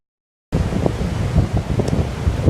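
Strong wind roars over the shore of a Toronto island inlet during a storm, with waves crashing in, a loud continuous buffeting rumble that begins abruptly after a half-second of silence.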